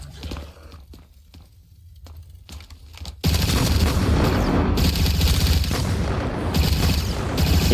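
A sudden loud burst of explosions and rapid gunfire-like blasts in the Roblox game Korrupt Zombie takes over after a quieter stretch of clicking, staying dense and heavy.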